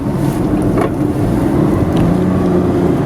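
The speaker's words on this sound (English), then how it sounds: "There's a tractor right here." A tractor engine passing along a road in rural Japan, a loud, steady low rumble with wind noise on the microphone, continuous throughout without speech.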